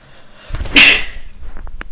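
A single sharp human sneeze bursts out loud and close, trailing off into quieter room sounds and small knocks, with no talking around it.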